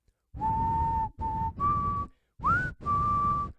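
A person whistles a slow, eerie tune of five sustained notes with short gaps, loud and close with no talking, mimicking a creepy whistle that signals someone approaching.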